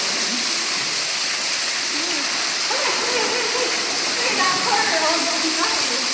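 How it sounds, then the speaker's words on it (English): A 93-foot underground waterfall in the dome room of a Tennessee cave roars steadily and loudly as a dense, unbroken rush, with voices faintly audible beneath it. "So this is the dome room with the 93-foot waterfall that we discovered last summer."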